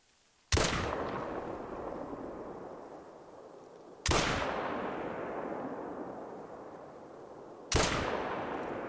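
Three sharp rifle shots from a Kullman .22H fired at long range in theHunter, each a loud crack followed by a long echoing tail, spaced several seconds apart with no talk.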